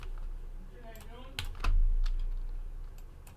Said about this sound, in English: let's get these hits typed in